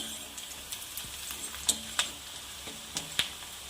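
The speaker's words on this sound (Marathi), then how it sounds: "कांदा छान ब्राऊन कलर होऊ द्यायचा आहे आता यामध्ये आपण लसण थोडंसं जाडसर बारीक केलेलं आहे" Chopped onion and coarsely crushed garlic fry in a pan with a soft, close sizzle, punctuated by light clicks and taps of stirring at irregular intervals, and no talking.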